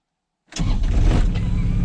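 A Kubota RTV X1100C diesel side-by-side cranks and fires after a half-second of silence, then settles into a loud, steady, close-up idle rumble that runs alone to the end.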